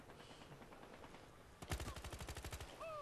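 Automatic gunfire in the video game Battlefield Hardline on the Everglades map in Hotwire mode: low ambience, then a loud rapid burst of about a dozen evenly spaced shots close by.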